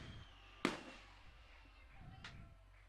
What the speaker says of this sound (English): we'll jack the crowd mic up and let you listen in to the fireworks show